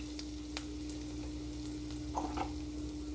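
Curry sizzling and frying in a pan as ginger goes in, a soft steady hiss with a low hum underneath and a few faint clicks and stirring clatters near the end.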